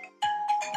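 A wallet-sized tracker card sets off a phone's ring alert, a short tonal chime that starts abruptly and repeats in bright, close bursts with no one talking.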